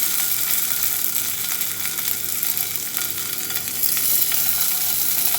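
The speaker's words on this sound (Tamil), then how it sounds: "எண்ணெய் காஞ்சிடுச்சு இதில் பன்னீர் போட்டுடலாம்" Paneer frying in hot oil on a flat dosa tawa, a dense, loud, continuous sizzle and crackle held close for several seconds, swelling slightly toward the end.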